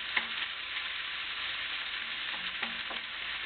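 Onions fry in the oil drained from a can of tuna, a steady close sizzle with a few light clicks of stirring, heard alone without any talking.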